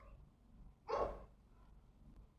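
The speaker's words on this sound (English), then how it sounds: "can you please just walk this way, because you and the dogs are making noise" A single sharp bark from a dog on a street, fairly near but quiet, standing out against a low background hum.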